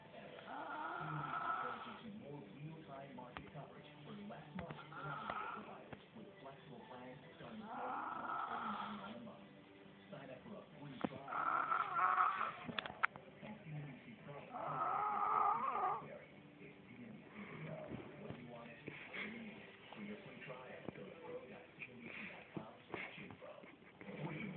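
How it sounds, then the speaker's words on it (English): A sleeping man snores in loud, rasping bursts every few seconds, while people talk quietly close by. "Yeah, how he snores."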